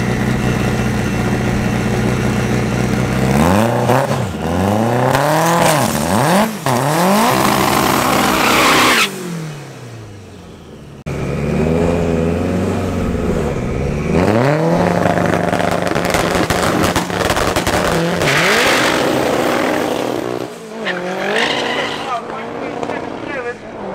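A turbocharged ABF-engined race car at a club drag racing event revs and accelerates hard down the strip, its engine note rising in repeated gear-change sweeps, loud and close, with a brief quieter gap before another strong pull.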